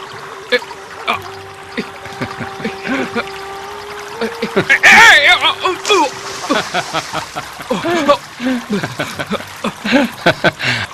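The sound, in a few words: water splashing and trickling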